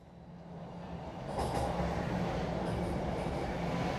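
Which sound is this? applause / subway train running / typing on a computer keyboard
subway train running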